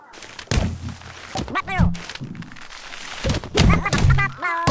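Cartoonish gunshots from the video game Gumslinger land as several punchy thunks amid game sound effects and music, with voices talking between them.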